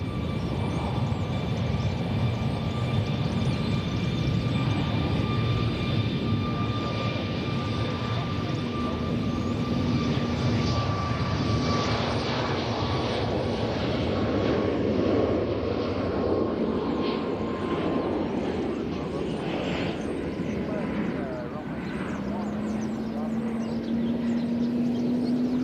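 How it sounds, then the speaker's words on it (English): A Southwest airliner roars steadily as it departs Nashville International Airport, a loud, sustained jet engine rumble with whining tones that holds throughout and shifts pitch near the end. "next departure is going to be southwest. Looks like Kansas City."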